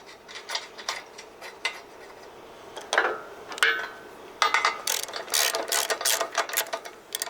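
Locking nut being tightened on a skid steer loader quick attach, with rapid ratcheting clicks in short bursts and occasional louder metallic clunks, close and clear.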